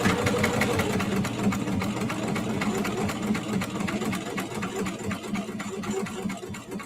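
A sewing machine stitches through thick denim on a tote bag, running close and continuous with a rapid, chugging needle rhythm and a laboring motor hum.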